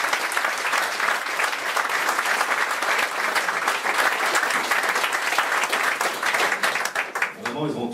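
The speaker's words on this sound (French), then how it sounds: "oui, on peut les applaudir." An audience applauds at a regional Europe event in Alsace, with sustained, loud, even clapping from a sizable crowd that carries on throughout and fades slightly as a voice comes in at the very end.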